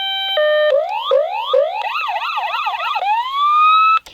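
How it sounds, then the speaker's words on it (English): A Hess toy ambulance cycles through electronic siren effects: a held tone, then rising whoops, then a fast warbling yelp, ending in a long rising wail that cuts off abruptly, loud and alone. "sounds like a unique siren that I've heard in real life before"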